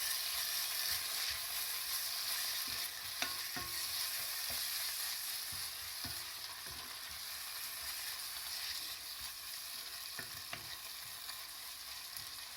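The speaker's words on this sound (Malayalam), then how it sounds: "നമുക്ക് ഇഞ്ചി വെളുത്തുള്ളി പേസ്റ്റ് ഇടാം കേട്ടോ രണ്ട് ടീസ്പൂൺ ഇടാം ഇതൊന്ന് റെഡി ആവട്ടെ കേട്ടോ" Onions fry with ginger-garlic paste in a pan for a broiler duck curry, giving a steady, dense sizzle with occasional soft clinks and scrapes from stirring, and no voices.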